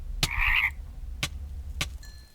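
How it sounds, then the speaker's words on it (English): A poisonous frog croaking in a Minecraft modpack game, one bright warbling croak followed by a few sharp clicks, near and distinct, with no voices. "There was a poisonous frog."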